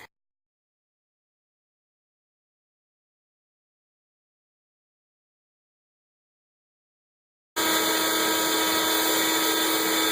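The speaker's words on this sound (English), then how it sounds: "You know, see about doing a little vacuuming." After long silence, a homemade dust collector suddenly switches on into a loud, steady whine and roar that runs unbroken to the end, with no talking.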